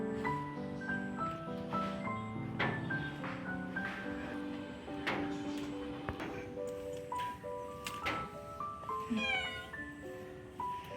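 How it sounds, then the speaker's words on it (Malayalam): A cat meows around a house, giving a short rising meow near the end over a busy background of steady tonal sounds and light talking. "ഇതാണ് കാവിളിക്കുന്ന പൂച്ചടാ"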